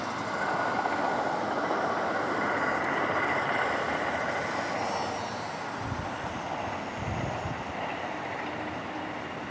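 An XK A800 RC glider passes by under motor power, outdoors in wind; a continuous whirring drone fills the clip, fairly steady with a slight swell partway through, no talking.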